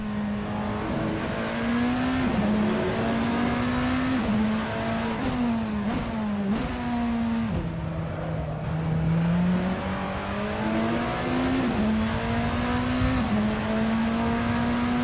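BMW M Hybrid race car in a racing video game, its engine droning steadily through a lap with repeated gear shifts and rising and falling revs, loud and continuous, no voices.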